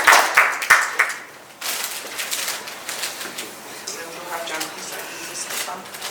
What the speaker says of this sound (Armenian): Ծափահարեք Գոհար Գալստյան։